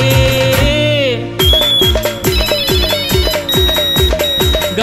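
A mobile phone ringtone from a missed call plays as part of a Marathi folk song, with a bright, repeating electronic melody pulsing in a steady rhythm amid the music.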